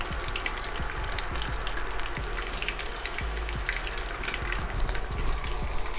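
Keto corn dogs deep fry in hot oil around 360 degrees, a dense continuous bubbling sizzle up close with crackling pops scattered across it.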